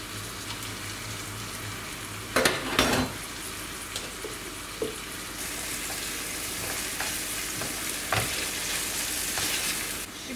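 Sour cream goes into a mushroom sauce in a pan, where it sizzles steadily while a spoon stirs, with a few sharp scraping knocks against the pan rising above the constant frying hiss.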